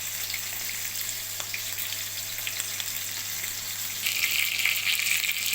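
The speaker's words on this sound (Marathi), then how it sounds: "दोनूय सायडीन फ्राय जालें फीश." Goan-style red masala fish fries in a pan over slow-medium heat, giving a steady soft sizzle that swells a little louder near the end, with no talk.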